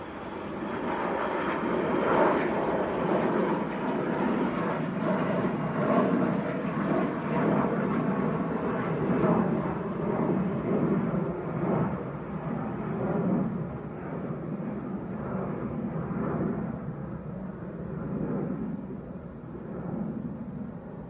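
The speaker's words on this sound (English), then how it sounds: "Logan Air Embraer, or is it 145? I think it is. Just getting airborne." A Loganair Embraer 145 regional jet takes off at Manchester Airport, its engines roaring loudly and steadily, then slowly fading as it climbs away.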